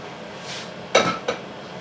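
A spoon stirs rich oxtail ragu in a metal pot, giving a soft scrape and then two sharp clinks against the side, close and clear with no talk.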